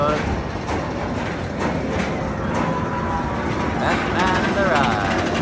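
Batman the Ride roller coaster rushes past at an amusement park, a broad rumbling roar with rail clatter and a rising whine near the end, people talking over it.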